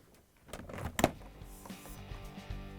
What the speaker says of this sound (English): And now we can close both doors.